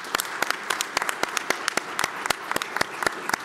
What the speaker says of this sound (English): let's give them another applause for bringing together this wonderful session